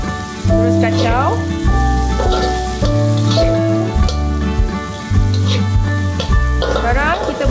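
Shrimp and other food keep sizzling loudly in a hot wok while a spatula stirs and scrapes at a steady rhythm, close and continuous.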